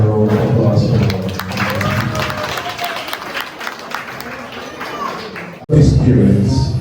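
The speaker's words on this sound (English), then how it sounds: "Can we have another round of applause for him?" Applause and crowd clapping fill the space continuously, mixed with voices, ending with a brief pause before noise resumes.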